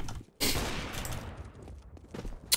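Gunfire in the Counter-Strike video game, likely from a P90, bursts out as a loud, dense spray of rapid shots that keeps going for about two seconds, ending in a sharp final crack.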